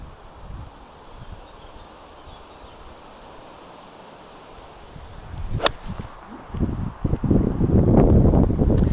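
Wind blowing across an open golf course, a steady low rushing that builds and buffets the microphone in loud gusts toward the end, with a sharp swish partway through.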